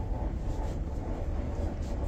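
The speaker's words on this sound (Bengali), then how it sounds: "সবুজ গাছপালার মধ্যে দিয়ে ট্রেন ছুটছে" The Kanchankanya Express on the Sealdah to New Mal Junction route runs through green countryside, heard from inside as a steady, quiet, low rumble of wheels and carriage with no pauses.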